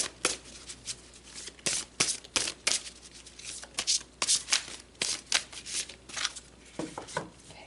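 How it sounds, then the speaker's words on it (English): Tarot cards are shuffled by hand in quick, crisp riffling bursts separated by short pauses, close and clear, with no talk over them. "Definitely felt like the cards wanted me to stop shuffling right there."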